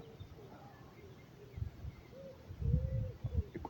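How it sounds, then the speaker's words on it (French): Birds call outdoors in the morning, with soft cooing and a few brief chirps and whistled notes, fairly faint over a low background rumble. "écoutez le chant, écoutez la louange des oiseaux ce matin"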